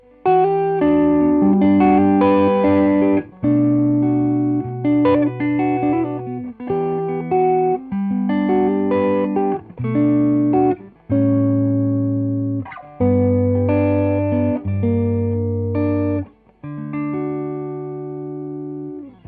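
An electric guitar through a Keeley D&M Drive overdrive pedal plays a series of gritty chords and riffs, loud and close, with pauses between phrases.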